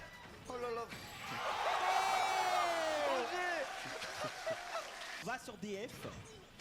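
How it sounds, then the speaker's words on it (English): Crowd at a Super Smash Bros. Falcon match tournament roaring and cheering in a loud swell that rises and fades over several seconds, with short bursts of talk before and after. "Listen to this crowd."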